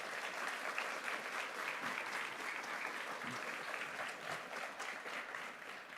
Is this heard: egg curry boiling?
no